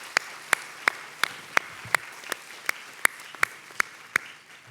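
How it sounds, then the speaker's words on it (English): Hand claps at a University of Stirling graduation ceremony in 2022, sounding as sharp, evenly spaced single claps close by, about three per second, over a faint, steady room hush. "a big round of applause"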